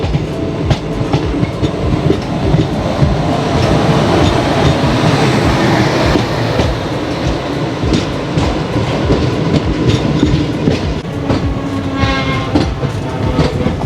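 Chitrakoot Express passenger train rolling over the rails and crossing points while changing track, a loud, steady rumble with rhythmic clickety-clack from the wheels throughout, close and continuous with no talking.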